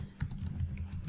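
Code being typed on a computer keyboard for an Android Google Maps app: a quick, steady run of close keystroke clicks over a brief moment, with no voices.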